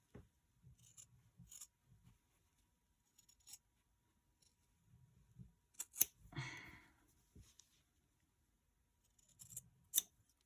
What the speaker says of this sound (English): These are the best scissors I got.